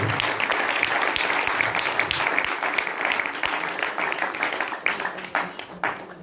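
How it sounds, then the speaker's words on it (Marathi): A church congregation clapping loudly in thanksgiving, dense sustained applause close by that thins out toward the end. "जोरात टाळ्या वाजून तो तुला धन्यवाद."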